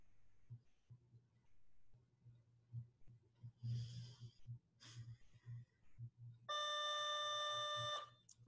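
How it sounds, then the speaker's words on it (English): An overhead school bell in a lecture classroom sounds as a single sustained, shrill electric ring near the end, following soft low thumps and quiet room noise. "a bell is about to ring overhead and it's going to be disruptive if I'm talking during it"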